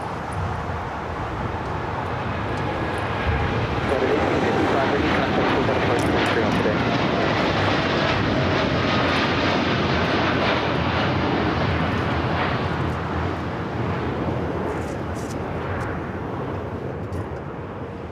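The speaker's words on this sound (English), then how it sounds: "That was the United Dreamliner heading to Newark, taking off." A United Boeing Dreamliner bound for Newark takes off from runway 25 left at LAX, its loud, steady jet engine roar filling the air throughout with a slight fade toward the end.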